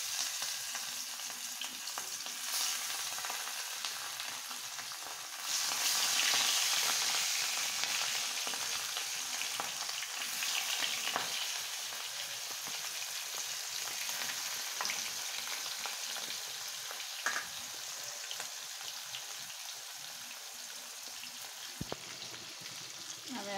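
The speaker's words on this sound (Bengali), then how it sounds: "আমি এখন মাছগুলা ভেজে নেব। তেলটা গরম হয়ে গেছে।" Fish fries in hot oil with a continuous crackling sizzle that swells briefly early on, then settles into a steady close hiss with occasional pops over about twenty seconds.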